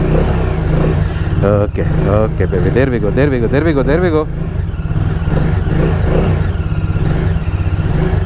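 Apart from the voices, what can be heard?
Bajaj Dominar 400 motorcycle engine starting and revving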